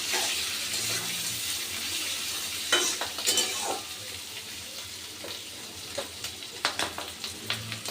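Fish roe frying together with bitter gourd in a pan, a steady close sizzle broken by scraping stirs and soft clinks that turn more frequent toward the end.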